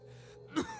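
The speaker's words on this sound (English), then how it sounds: "all that emerges is a series of violent coughs" A man chokes in smoke in the video game Pillars of Eternity, giving a short throaty rasp that builds into one harsh, forceful cough close up, followed by a fading, strained breath.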